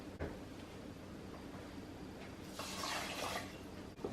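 Two cups of water poured over one cup of brown rice in a home kitchen, a soft steady trickle that swells into a louder rushing splash near the end, close by with no talking.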